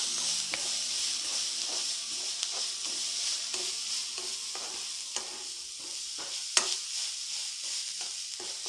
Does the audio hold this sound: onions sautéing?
yes